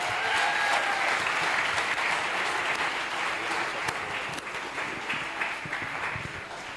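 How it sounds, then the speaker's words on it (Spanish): Sustained applause from a church congregation after a sermon, a broad wash of many hands clapping that stays fairly loud, then slowly thins and fades toward the end. "Recibámoslo con un fuerte aplauso."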